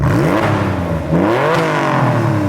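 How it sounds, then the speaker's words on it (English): A loud 2003 Porsche 911 Targa engine with a muffler delete revs up and down twice, a raspy, throaty roar rising and falling in pitch, close and unmuffled. "it actually has a muffler delete, so it sounds pretty good. Sounds pretty rowdy."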